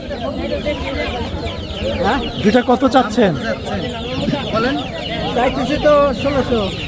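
Chickens cluck and squawk up close while people bargain over the birds amid steady chatter at a traditional rural market in Manikganj, Bangladesh.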